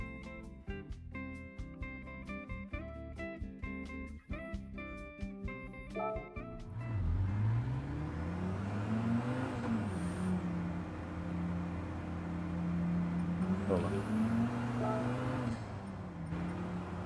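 A car driving in Gran Turismo 7 on PSVR2, an automatic, engine humming and rising in pitch as it accelerates after a stretch of music, steady and fairly quiet, with a voice talking at times.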